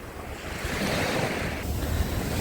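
Steady wash of Black Sea surf breaking on an Odesa beach, a constant broadband roar with some wind buffeting the microphone and no voices.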